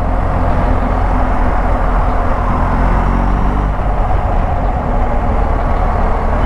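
Steady engine drone and road rumble from a BMW 1250 GSA motorcycle riding through the city, loud, constant and close, with no pauses or talking.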